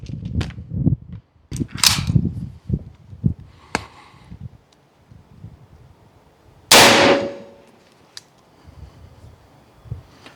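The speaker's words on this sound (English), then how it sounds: "I'm going to give you guys 3 more shots, kind of round out a 5-round group there." AEA Zeus .72 caliber airgun fired outdoors, several sharp cracking shots spaced seconds apart, one loud blast with a trailing ring, among lighter handling clicks and knocks.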